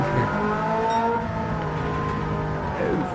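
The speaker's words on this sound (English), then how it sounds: "the engine sounds amazing" A race car engine in Gran Turismo 7 roars loudly and continuously, its pitch rising and falling as it revs, with faint tire noise.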